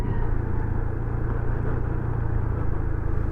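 Road traffic rumbles steadily around a moving motorcycle on a Sunday ride. A dense, constant low engine and road drone runs unbroken throughout, with no talking.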